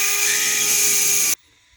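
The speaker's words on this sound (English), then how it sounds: "You just want to sand the paint off." A power sander whines loudly and steadily against painted car bumper pieces from a wrecked Kia Optima, holding one high-pitched drone before cutting off abruptly into near silence.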